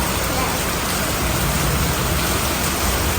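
Heavy rain pouring down in Brisbane, a dense, constant hiss of water on surfaces that stays even and close throughout.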